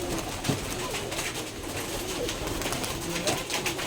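Pigeons of many breeds, including Rajshahi Giribaj, coo in an abandoned-space loft, a steady low murmur of overlapping calls with brief louder coos, moderately near and continuous throughout.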